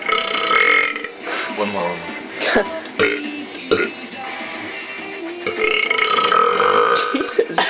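A person burps loudly several times in a row, close to the mic, with other people talking between the burps.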